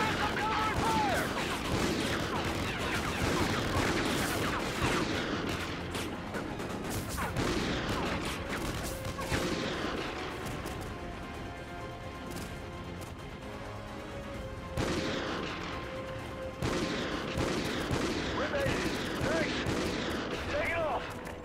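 Gunfire and covering fire in the video game Call of Duty Ghosts: dense, overlapping bursts of shots and rattling automatic fire that run almost continuously, loud and close, with brief lulls and scattered crashes.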